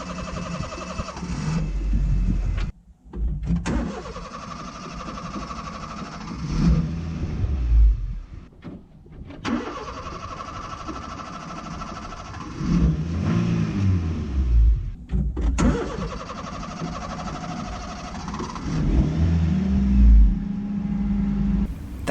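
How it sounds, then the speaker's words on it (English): A car engine cranks and struggles to start far from home, sputtering in repeated attempts with brief catches and revs, broken by short gaps of silence, loud and close throughout. "if you don't know much about cars and you're trying to turn your car on, it's doing this."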